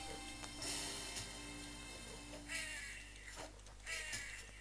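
Harsh crow-like caws from a bird in the Pirates of the Caribbean: Dead Man's Chest video game, repeated three or four times at a moderate distance over a constant droning game background.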